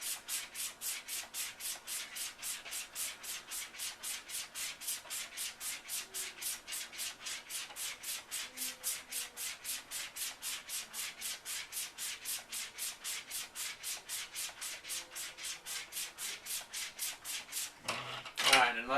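A straight razor stropped back and forth on suede, producing a long run of evenly spaced, soft rhythmic swishes close up, roughly two strokes per second, ending with a brief rustle.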